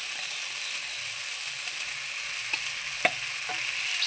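Fried bottle gourd tipped into a pan with tomato and spices for a fish curry and stirred, giving a steady soft sizzle with a few brief scraping knocks near the end; no talking.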